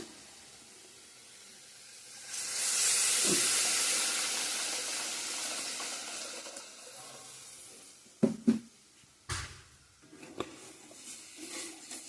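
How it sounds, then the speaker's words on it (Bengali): Hot water poured into frying spice paste for a Bengali mustard fish curry sets off a loud, broad hiss that swells and slowly fades, followed by several sharp clanks and knocks of utensils against the pot. "মশলার সঙ্গে গরম জল অ্যাড করে দিয়ে দেব জল দিয়ে দিব এখন"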